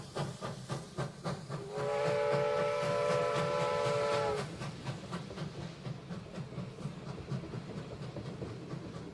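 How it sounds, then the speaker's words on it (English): A steam train leaves a London station, a steady whistle blowing for about two seconds over rhythmic hissing and chuffing that carries on before and after it. "the train begins to leave the station and take them out of London"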